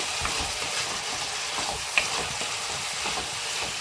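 Mushroom masala frying in oil in a pan as turmeric powder is stirred in, giving a steady close sizzle with soft scraping and a brief clink, with no voices.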